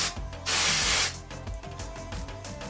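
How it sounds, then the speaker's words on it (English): L'Oreal color hair spray for hints and highlights bursts from an aerosol can. One loud, close hiss lasts about half a second, followed by quieter rustling and handling sounds. "I purchased this L'Oreal color spray, and it's for hints and highlights"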